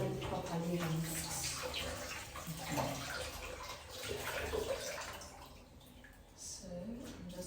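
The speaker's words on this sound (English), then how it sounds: "Now I'm convinced that my wig is properly rinsed." Running water splashes steadily over a curly wig being rinsed under a flowing tap, a continuous close wash with gurgles and drips throughout.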